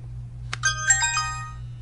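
A Pantech Pursuit cell phone on AT&T with a T-Mobile SIM card chimes a few short message notification tones in quick succession, clear and close over a steady low electrical hum.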